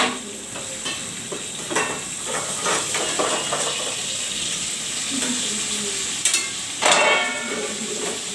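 Pointed gourd pieces crackle and hiss in hot oil, with a dense sizzle, a few scraping stirs and a burst of louder spitting near the end, close and fairly loud.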